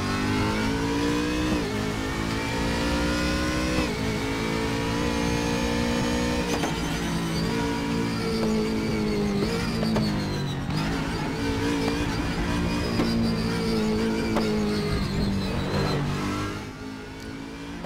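A race car engine in the RaceRoom racing game, revving continuously at high pitch with rising and falling tones as gears shift, loud and steady with no voices.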